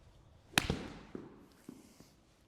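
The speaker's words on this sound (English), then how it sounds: "I'm gonna try to keep it there as long as I can and hit a small shot" A golf club strikes the ball for a small, short shot: one sharp, close crack followed by a few softer thuds as things settle, with no talking.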